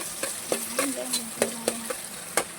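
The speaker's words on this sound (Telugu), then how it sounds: "ఇప్పుడు ఆనియన్ వేసుకోవాలండి" Onions frying in plenty of hot oil for boti curry, a steady sizzle broken by a regular series of spoon or spatula scrapes and taps against the pan, close up with no talk.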